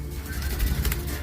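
Medium-sized birds kept by a poultry keeper, including a hen, call close by with low cooing notes over a dense background of other bird sounds.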